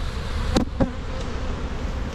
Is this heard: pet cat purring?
no